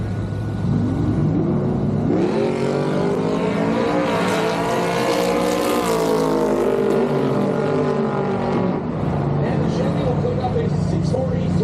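A 1955 Chevy wagon gasser drag race car revs and launches hard at a drag strip, a loud engine roar rising in pitch and holding for several seconds before dropping off, with an announcer talking over it.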